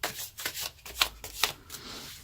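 Tarot cards shuffled on screen, a string of soft papery riffles and rubs with a few sharper flicks, close and moderately loud, no talking.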